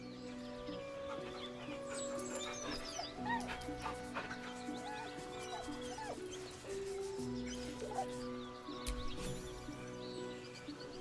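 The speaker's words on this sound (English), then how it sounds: "The dog whimpers nervously," A dog in the video game Baldur's Gate 3 whimpers nervously, giving repeated soft, high whines and short yips over a quiet ambient game backdrop.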